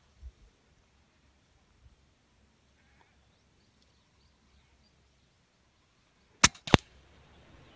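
A PCP M16 air rifle fires outdoors in a natural setting: mostly quiet background, then two sharp, loud cracks in quick succession near the end.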